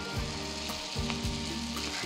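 Amboli batter sizzles on a hot oil-greased griddle, a steady close frying hiss with a few scraping stirs and light clinks in the pan.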